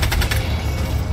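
A rapid burst of gunfire in Helldivers 2: quick loud cracks in the first moments, then a short ringing tail.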